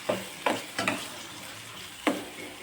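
Turmeric, salt and red chilli powder are stirred in a pan for Punjabi-style brinjal curry. Four distinct scraping strokes of a spoon against metal sound close by over a low sizzle, with no speech.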